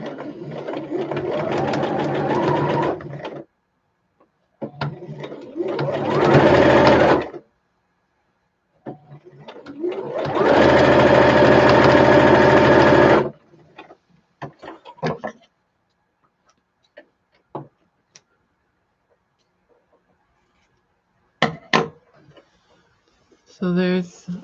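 A home sewing machine stitches fabric in several loud whirring bursts of a few seconds each, separated by quiet pauses with faint clicks and handling taps.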